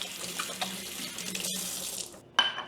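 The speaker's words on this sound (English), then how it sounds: "Let me rinse my hands out" A kitchen sink tap runs as hands are rinsed beneath it, a steady close hiss of flowing water with small splashes, ending in a brief clatter after the flow cuts off.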